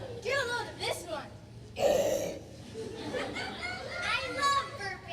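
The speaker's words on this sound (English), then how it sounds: "I love burping." A child lets out a loud burp amid excited children's chatter and laughter in a noisy, lively group setting.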